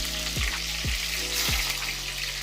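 Sardines frying in oil make a loud, continuous sizzle, broken by three brief thumps or stirring knocks spaced roughly half a second apart.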